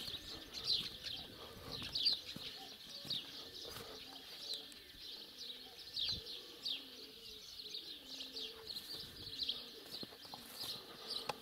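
Birds nesting in a building give faint, scattered chirps and soft cooing calls at a steady distance, repeating throughout over a quiet outdoor background.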